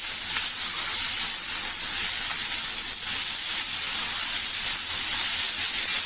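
Food fries in mustard oil in an iron wok for Bihari-style potato bhujia, giving off a loud, continuous hiss and sizzle that stays steady throughout, heard up close with no voices.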